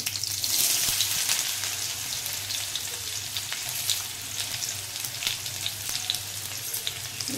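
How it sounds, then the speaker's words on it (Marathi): Cumin, mustard seeds and onion frying in hot oil in a pan, a dense, steady crackling sizzle with tiny pops throughout, close and even, with no talking. "तुम्ही जिरं, मोहरी, आणि कांदा घालून घेते।"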